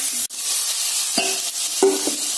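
Raw plantain and ivy gourd stir-frying with curry leaves, a soft hiss with a few distinct scraping strokes of a spoon against the pan, close and clear, no talk.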